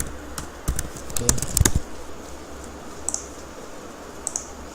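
Code is being typed on a computer keyboard, with a quick cluster of close, crisp key clicks followed by a few sparse taps against a quiet background.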